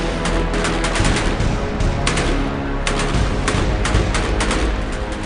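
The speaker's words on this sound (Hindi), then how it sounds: "ये सैनिक आतंकियों पर गोलियां बरसा रहा है" Sustained rapid fire from a belt-fed machine gun, dense and loud, with bursts of shots rattling continuously throughout.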